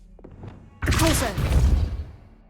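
A Pulso force spell cast in Hogwarts Legacy on PS5 lands as a sudden loud thumping burst with a crackling magical rush that fades over about two seconds, preceded by faint game sounds.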